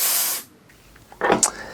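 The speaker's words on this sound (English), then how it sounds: "spray here onto this element" A steady aerosol multi spray hisses onto a bulb element for about half a second, then stops; after a pause a second shorter burst of spray follows with a faint clink.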